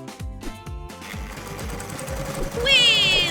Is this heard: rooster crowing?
no